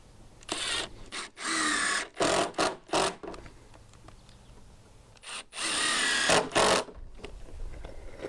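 A power drill driving deck screws whirs in short bursts, several quick runs then two longer ones, with brief pauses between, close by.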